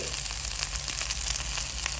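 Eggplant stir-frying in a little oil in a pan, a steady close sizzle with a constant hiss and faint crackle running evenly throughout.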